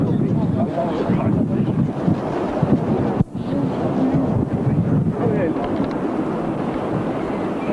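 Strong wind buffets an outdoor microphone at a model aircraft club's electric fly-in, a constant loud rumbling roar with faint voices mixed into the gusts.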